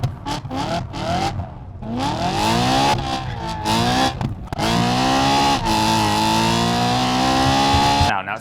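A BMW E92 M3 fitted with a Magnaflow kit exhaust revs repeatedly, its engine note climbing and falling in several loud, close bursts with brief drops between pulls.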